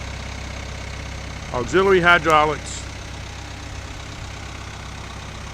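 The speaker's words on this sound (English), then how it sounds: "Turbocharged Cat diesel engine" A turbocharged Cat diesel engine on a 2002 CAT 246 skid steer idles with a steady low rumble throughout, and someone speaks briefly over it midway.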